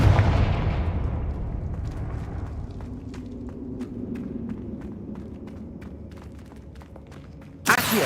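A booming fire-spell blast in the Hogwarts Legacy video game opens loud and rumbling, decays into a low crackling rumble with scattered clicks, then a second sharp burst hits near the end.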